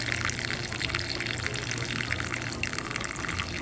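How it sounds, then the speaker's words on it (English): Water gushes steadily from a hose, splashing continuously as it pours into cactus pots close by. "you just fill up the pots as much as possible with water, drench the roots"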